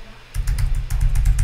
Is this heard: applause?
no